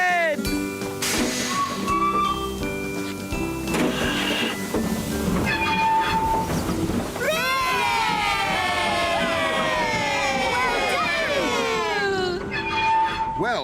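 An animated steam train sets off from a station in a children's cartoon, with rolling rail noise, hissing and whistle-like tones, while voices and music play throughout.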